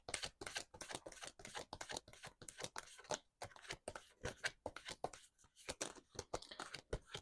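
Tarot cards shuffled close up in a flurry of quick papery riffles and slaps, an uneven rapid rhythm of crisp card strikes with brief pauses, no talking.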